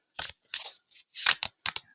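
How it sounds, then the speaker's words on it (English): A deck of tarot cards being shuffled by hand, heard as several short, crisp riffling bursts separated by brief pauses, close and fairly quiet. "feeling like shuffling this deck again"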